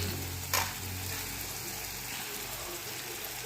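Chopped onion frying in hot oil for a Marathi drumstick (shevga) vegetable dish, a steady close sizzle throughout with a brief sharp clatter near the start and no talking.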